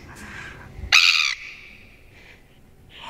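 A bird's sharp call or squawk cuts in briefly, loud and close, followed by fainter chirps, with little else around it.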